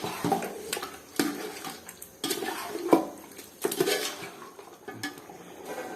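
Green masala chicken for a hariyali biryani, stirred in a pot with a metal spoon, giving a run of clanks and scrapes against the pot sides, loud and close, with wet mixing sounds between the knocks and no talking.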